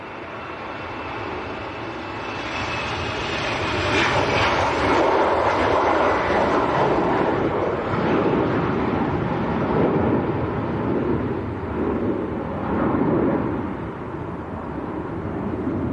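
A KLM airliner bound for Amsterdam at Leeds Bradford Airport roars steadily on a windy day. The broad engine rumble swells through the middle and eases toward the end, with wind buffeting the microphone.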